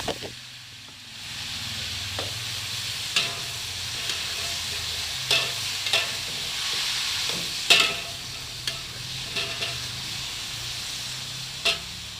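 Pineapple with shrimp and fried garlic stir-fried in a hot pan gives a steady close sizzle, broken by scattered sharp clicks and scrapes of a utensil stirring, with no talk.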